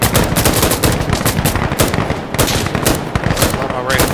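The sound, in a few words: gunfire from M249 SAW in video game Insurgency: Sandstorm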